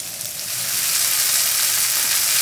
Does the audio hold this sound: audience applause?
no